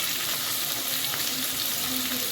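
Food frying in a pan on a home kitchen stove gives a dense, continuous close-up sizzle with no talk over it.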